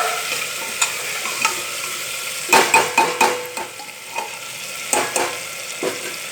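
Peanuts and peas fry in a pan for masale bhat, a soft sizzle running throughout while a spoon stirs and scrapes against the metal in irregular clinking knocks, loudest in a cluster midway.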